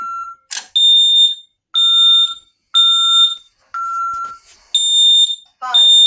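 An ADT SafeWatch Pro 3000 fire alarm sounds in loud repeated bursts of shrill multi-tone beeping, with short gaps between them and a voice talking briefly in the gaps.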